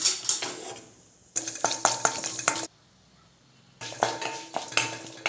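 Chana dal frying in hot oil, bursts of crackling sizzle and spoon stirring against the pan, loud and close, broken by two quieter pauses.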